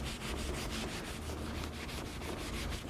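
Rhythmic rubbing of a solvent-soaked cloth over steel to strip grease before TIG welding, a steady back-and-forth scrubbing swish, close and continuous with no talking.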